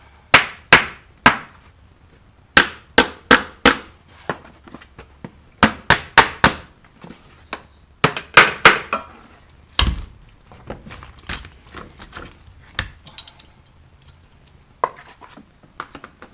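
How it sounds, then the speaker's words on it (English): Metal inserts are hammered out of a fire-damaged lawn mower in sharp, loud clanging strikes, given in quick clusters of blows with short pauses between, ringing close with a faint background hum. "see if I can't hammer them out and get that to set on down in there"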